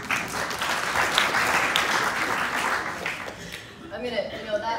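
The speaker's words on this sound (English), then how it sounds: "why doesn't everyone give themselves a round of applause?" Audience applause at an environmental forum at SUNY Adirondack in Queensbury, New York: dense, sustained clapping from a room full of people for about four seconds before it thins out into scattered claps and a few murmuring voices.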